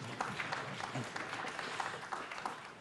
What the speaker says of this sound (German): der Applaus sei gegönnt